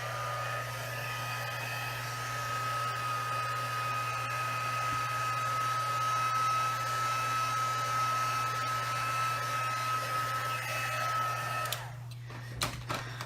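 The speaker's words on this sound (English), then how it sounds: "I'm gonna put my heat tool to it, so if you wanna turn down your volume, go ahead, because it might be kind of loud." A heat tool blows hot air to dry ink on a stamped paper craft, giving a steady, fairly faint whirring hiss with a fixed whine that runs for about twelve seconds before switching off.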